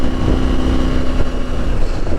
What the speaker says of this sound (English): the quick shifter on this is absolutely buttery smooth